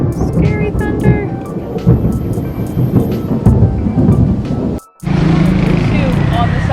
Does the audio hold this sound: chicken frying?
no